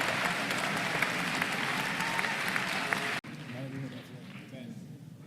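An audience at the Rubik's Cube World Championship in Paris claps in a dense burst of applause. It fades abruptly a few seconds in, leaving lighter scattered clapping and room murmur.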